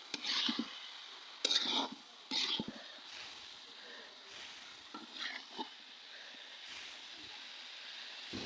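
Radish and bhata fish fry are stirred in a pan over a soft sizzle, with a few sharp spoon scrapes near the start and lighter intermittent stirring strokes after.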